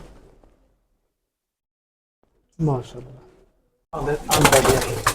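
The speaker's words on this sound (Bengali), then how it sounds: "এটা আমার একটা সিলভার কবুতর" Pigeons coo in a home loft, a silver pigeon among them, with short soft calls after a quiet start and a louder burst near the end mixed with a person talking.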